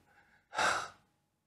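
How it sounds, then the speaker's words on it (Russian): A single full exhale pushes air out before singing, one soft, breathy rush lasting about half a second, close to the microphone and otherwise quiet. "А теперь сделайте наоборот. Выдохните воздух"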